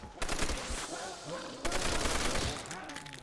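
Browning machine gun in Call of Duty: World at War firing in two sustained bursts of rapid automatic fire, with a short pause between them, loud and close.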